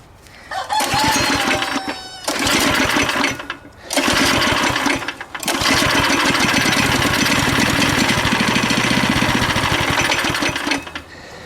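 A neighborhood go-kart's small engine with a gummed-up carburetor revs in rough, buzzing bursts, cutting out briefly between runs and then holding a ragged, uneven roar nearby.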